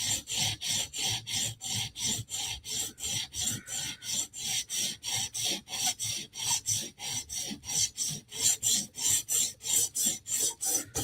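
A Spyderco knife blade rasps against a sharpening stone in quick, even back-and-forth strokes, roughly three per second, close and steady with no voices.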